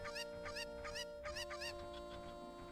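Cuccos in Zelda: Ocarina of Time cluck in a rapid, repeated series of chirpy calls, steady and fairly close over a sustained game music drone.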